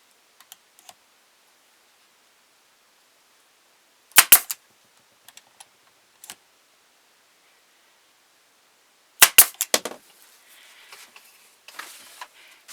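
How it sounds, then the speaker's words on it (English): A staple gun fires into wooden ventriloquist dummy parts with two sharp, loud snaps a few seconds apart. Quiet clicks and handling noises fall between them in an otherwise silent room. "I find it easier if I put a staple in it to hold it in place when I put the clamps on"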